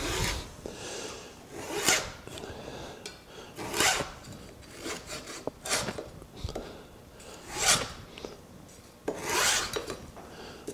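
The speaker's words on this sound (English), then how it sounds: "So now we're going to take our saw and hold pressure," Hand saw cutting through a wooden table top: rough, rasping back-and-forth strokes repeat in an uneven rhythm, loud and close, with short pauses between pushes and no talking.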